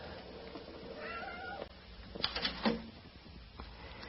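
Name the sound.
calico cat meowing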